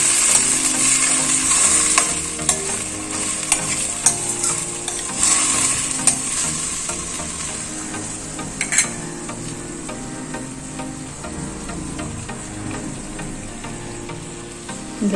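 Cooked vegetables are stirred into a pot of hotel-style sambar, a steady simmering sizzle broken by repeated scraping and knocking of the spoon against the vessel, close and with no talking.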